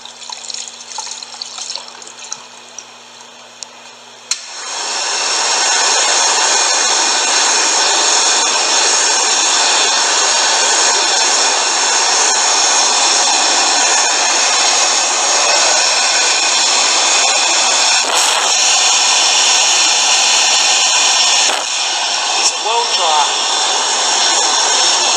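An Airtel S9 hand dryer starts with a sudden onset and then runs as a loud, steady whooshing roar that continues to the end, after quieter room noise at the start.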